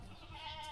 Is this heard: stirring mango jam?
no